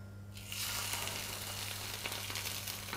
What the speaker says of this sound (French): Dans une poêle chaude, mettre un filet d'huile d'olive et saisir le poisson côté peau pendant 1 minute